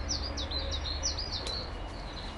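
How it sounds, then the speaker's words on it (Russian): Small birds sing a series of repeated high chirps and tweets among blossoming apple and bird cherry trees outdoors, heard at moderate distance over a steady low background rumble. "птички поют"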